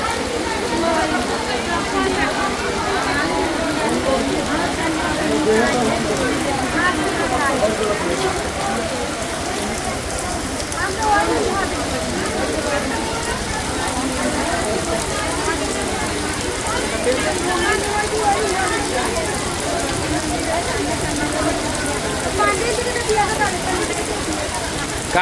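Heavy rain pours down steadily during an outdoor havan fire ritual for Navratri Navami, a dense, unbroken hiss and patter of drops close by that fills the whole stretch without pause.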